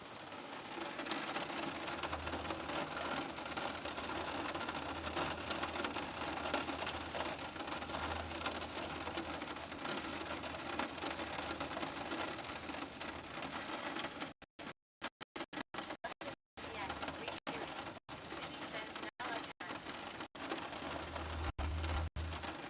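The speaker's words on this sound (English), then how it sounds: "Can you hear the rain, chat?" Steady heavy rain falling outside a van in the UK, a constant close hiss of drops on surfaces with a low rumble underneath, cutting in and out toward the end, with no talking.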